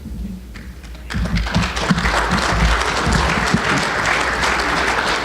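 An audience at a community awards dinner applauds the mayor. The clapping starts thinly, swells sharply after a second and holds as a dense, sustained round of applause filling the room.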